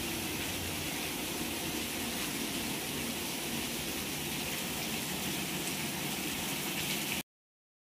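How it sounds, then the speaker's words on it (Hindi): Heavy rain pouring continuously, a dense steady hiss and patter with no breaks, moderately loud and unchanging until it cuts off abruptly near the end. "3 घंटे से कंटिन्यू ऐसे ही जोरों से बारिश आ रही है"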